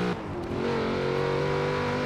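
A Chevrolet Corvette C4 engine in the racing game Forza Horizon 4 revs up and holds a strong, steady drone, loud and close.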